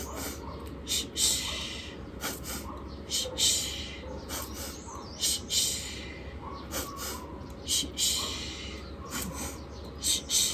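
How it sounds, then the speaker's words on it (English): Warrior 1 breathing in a yoga session, with loud, close, rhythmic breaths forcefully exhaled through the mouth and drawn in through the nostrils, repeating about every second or so as a voice guides the pace. "Exhale through the mouth. Inhale, nostrils."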